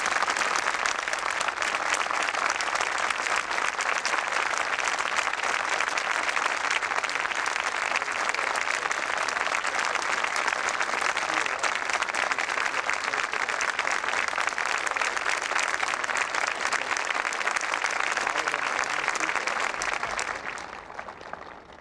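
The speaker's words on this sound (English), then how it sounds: "Let us give him a warm round of applause." Outdoor audience applause for an honoree at a 1994 arts and humanities awards ceremony, a long, even, sustained roar of many hands clapping that fades out at the very end.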